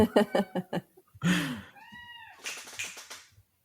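A cat meows close by, a drawn-out wavering cry and then a higher, sharper meow, amid brief tapping and low murmuring sounds.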